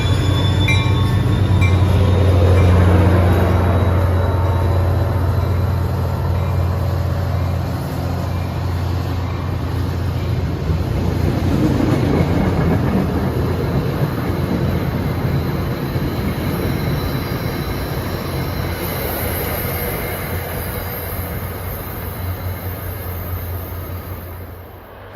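NJ Transit EMD F40PH-2CAT diesel locomotive 4119 pulling out of Montclair State University, a loud steady engine drone and rumble of rolling railcars, with a low throb early on that eases as the train draws away.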